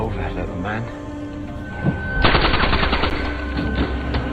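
Assault rifle gunfire in a World War II battle scene between German and Soviet troops, heard as a dense, loud burst of rapid automatic shots over a background score, with a thudding impact just before.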